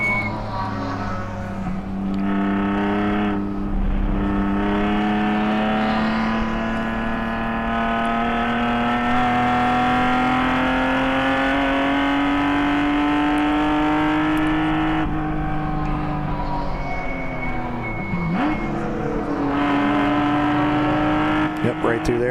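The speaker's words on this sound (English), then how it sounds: "You really hear him just easing into that accelerator and taking care of it." Onboard a ChampCar endurance race car at the New England Enduro, a loud, close engine note climbs slowly and steadily as the throttle is fed in gently, dips briefly, then rises again.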